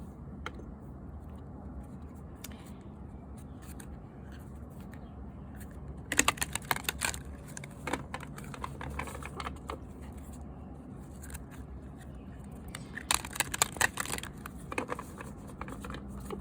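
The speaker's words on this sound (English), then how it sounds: "Shuffle these cards real quick 3 times" A deck of tarot cards is shuffled in a few quick bursts of crisp riffling and flapping, close and fairly quiet, separated by softer handling noises.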